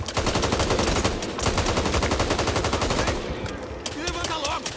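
Rapid automatic gunfire from the zombie shooter Back 4 Blood, its Tunnels of Terror expansion: a dense, unbroken stream of loud shots with a brief pause near the middle, then continuing with lighter crackle and faint voice-like sounds beneath.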